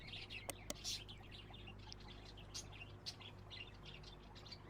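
Small birds chirp and tweet in short bursts at a pet shop in Exotica: Petshop Simulator, soft and scattered over a steady low hum, with faint voices now and then.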